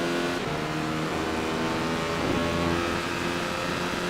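Radical race car engine at Interlagos heard from inside the car, a loud, steady droning roar with layered harmonic tones throughout, the pitch shifting slightly as the revs change.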